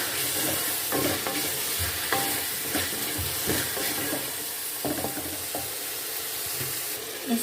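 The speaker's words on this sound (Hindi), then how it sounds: "अब इसमें हम आलू डालेंगे और इसको हम अच्छे से भून लेंगे आलू को" Diced potatoes and minced meat keema sizzle and fry in a pan for an aloo palak keema dish, a steady close crackle broken by repeated stirring scrapes, with no talking.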